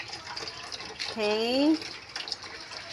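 Water runs into a new Panasonic washing machine with a steady close splashing and trickling, while a person says a brief word over it.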